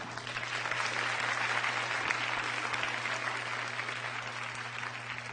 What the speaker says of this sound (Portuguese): Você pode aplaudir porque é verdade.